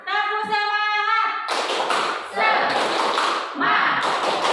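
A classroom of students performs a rhythmic clapping chant of encouragement, loud bursts of clapping and shouted voices in several sections after a teacher's spoken lead-in.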